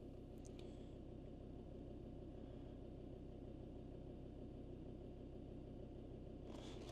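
Land Rover Discovery Td5 diesel engine idling steadily with a low, even rumble that holds unchanged throughout, a little background noise at the start and end.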